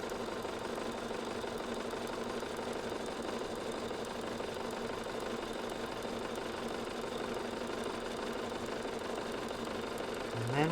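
A sewing machine stitching along a drawn paper-pieced quilt template line for a flying geese table runner: a steady, even motor hum and stitch rattle running throughout, close and moderately quiet.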